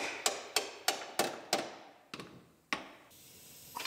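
Sharp metallic taps and clicks, about eight in a fairly steady rhythm, close and fairly quiet, come from work fitting a bolt into the subframe of a Pontiac Grand Am.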